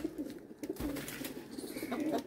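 High-flyer pigeons kept for sale coo in a close, steady murmur of low throaty calls, with a few soft wing and handling noises mixed in and no talk over them.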